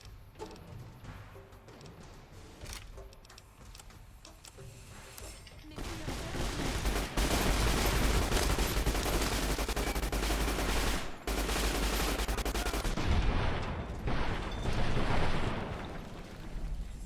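Sustained Thompson submachine gun bursts in the video game Fallout New Vegas, dense, loud rapid fire that swells after a quieter start and holds with brief breaks.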